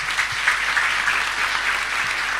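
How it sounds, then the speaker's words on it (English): Dense, steady audience applause at an industry masterclass, loud and continuous without a break, a broad wash of many hands clapping with no speech heard over it. "Please give Karabo and Rowlin a massive round of applause."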